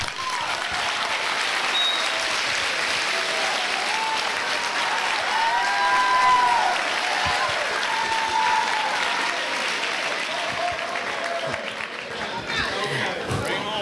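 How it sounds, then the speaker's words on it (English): A high school graduation audience breaks into sustained applause, a dense wash of clapping and cheering that swells around the middle and carries on with crowd chatter and voices mixed in before fading slightly. "you deserve a round of applause"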